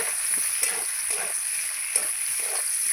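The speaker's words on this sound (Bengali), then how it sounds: "আলুটার সঙ্গে সঙ্গে পেঁয়াজটাও কিন্তু দিয়ে দেবো। দিয়ে ভালো করে নাড়াচাড়া করে নেব।" Diced potato and onion sizzle in a hot pan of oil while a spoon stirs them in slow, scraping strokes. The steady frying hiss runs close and continuous under each turn.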